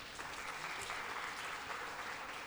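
An audience claps in an auditorium at a pharmaceutical conference session: a steady, faint, dense patter of many hands that sounds distant and continues without a break.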